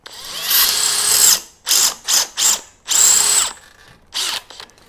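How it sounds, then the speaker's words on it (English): A power drill with a 4mm bit bores the head off a rivet in several loud, close bursts of whining spin, separated by short pauses, with no talk. "So the first thing we've got to do is drill the head of the rivet off."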